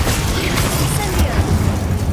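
Incendio fire spell cast in Hogwarts Legacy, a loud, dense burst of roaring fire and whooshing game effects with a rumbling low end, sustained for the whole moment.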